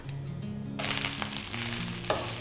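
Leftover rice stirred with turmeric in a hot pan, frying with a steady sizzle and a few scraping stirs, close and moderately loud, with no talking.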